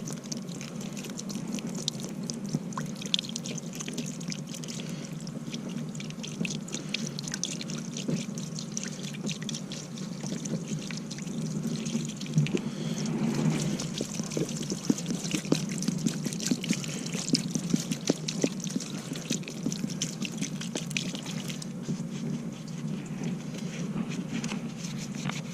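Water gently poured from a jug over a car battery to rinse it, giving a quiet, steady trickle and light splashing throughout, close by with no talk.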